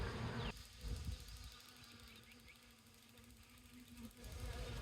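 Honey bees buzz steadily during a new beekeeper's hive inspection, a dense, continuous insect drone that swells and fades slightly, heard close and alone without talk.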